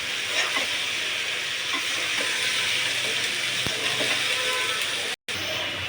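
Radish and potato pieces being stirred in a frying pan, a loud, dense sizzle with rhythmic scraping and clatter throughout, cut by a brief drop to silence near the end.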